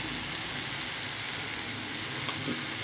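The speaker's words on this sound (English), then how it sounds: "The medium chopped will go for frying with these vegetables" Constant, dense crackling sizzle of onions and vegetables frying in hot oil, close up and continuous with no pauses.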